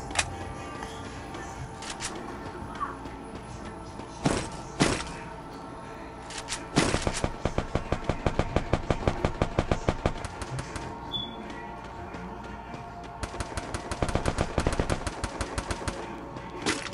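Rapid bursts of automatic fire from an Uzi and an assault rifle in the video game Free Fire, loud and close, in repeated strings with short gaps between volleys.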